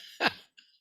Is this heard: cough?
yes